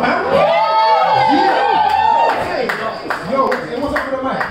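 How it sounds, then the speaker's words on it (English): Crowd at a live hip-hop performance with a guitarist cheering, whooping and clapping loudly and continuously, with shouted voices mixed in over a rising and falling roar. "clap, make some noise, man."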